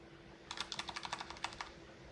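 Rapid clicking of computer keyboard keys, about a dozen crisp presses in an irregular burst, close and fairly loud over a steady low hum, with no talking.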